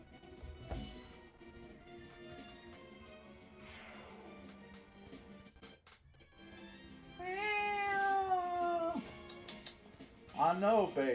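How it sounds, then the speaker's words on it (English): A whiny house cat meows and wails in rising, drawn-out cries, with one long loud call near the middle and a burst of sharp meows at the end, set over background game music and a voice talking. "I hear a very whiny kitty boy in there."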